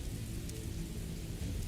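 Heavy rain falling in the Morrowind video game, a dense, steady wash of rainfall with a low rumble beneath, continuous and loud, with no voices.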